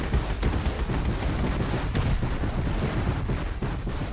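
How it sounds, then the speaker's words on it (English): Rockets striking and blasting in a video game, a steady rumbling barrage of overlapping thuds and cracks that runs unbroken throughout, with no talking. "Some of them rockets are actually hitting me."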